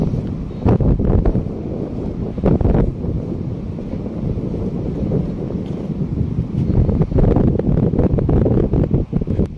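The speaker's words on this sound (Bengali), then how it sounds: "আর ফুরফুরে সেই মৃদুমন্দ হাওয়া, দারুণ লাগছে" Sea breeze blows across the white sand of Parikhi beach in the afternoon, a steady, loud wind rumble buffeting the microphone, with stronger gusts near the start and end.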